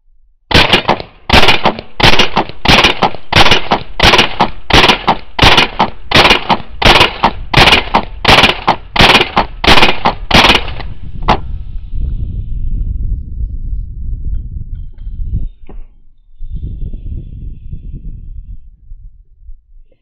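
A CMMG Banshee .22 rifle fitted with a Defcan 22 suppressor fires Winchester white box rounds in a fast, steady string of about twenty sharp, muffled cracks, near and loud, then the action stops and low handling noise follows.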